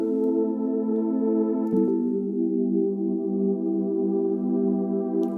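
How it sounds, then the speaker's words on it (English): The Cluster synth engine on a Teenage Engineering OP-1 holds a loud, sustained chord of stacked buzzy tones that shift in pitch about a third of the way through, then keep droning with gentle internal movement. "the last synth engine I want to have a look at is Cluster, which can sound like this"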